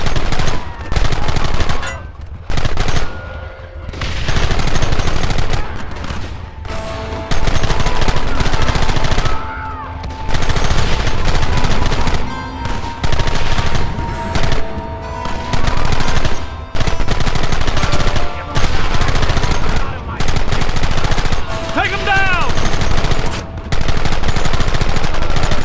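Heavy Red Dead Redemption gunfire, loud sustained machine-gun bursts and rifle shots rattling almost continuously with brief pauses, alongside shouted game dialogue.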